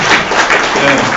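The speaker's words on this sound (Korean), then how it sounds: "이럴 때 박수 나와야죠" A lecture audience breaks into loud, close, continuous applause, a thick unbroken patter of many hands with voices mixed faintly underneath.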